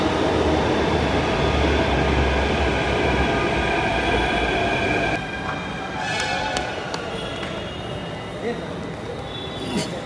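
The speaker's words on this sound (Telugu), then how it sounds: "ట్రైన్ వస్తుంది." A metro train arrives at Sindhi Camp station in Jaipur with a loud, close rumble that eases midway into a quieter hum with faint squeals, while people talk nearby.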